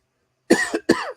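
A man on a radio-style talk show coughs twice close to the microphone in sharp back-to-back bursts after a brief silence.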